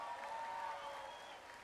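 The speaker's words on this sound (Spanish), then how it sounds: "Fuerte el aplauso." Audience applause for a pianist at a concert, a steady wash of clapping from a crowd, moderately quiet and continuous throughout.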